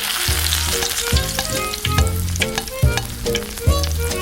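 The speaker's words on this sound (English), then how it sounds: "Grease the frying pan with oil and fry the onion and ginger." Oil sizzles steadily with onion and ginger frying in a pan, broken by a repeating series of low thumps and clatters, close and fairly loud, with no talking.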